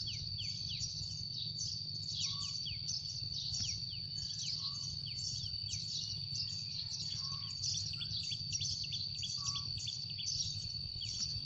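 Sparrows chirp in the rain, a flock sending out quick, bright, repeated calls in a steady stream, fairly faint over a low background hum of rain and ambient noise.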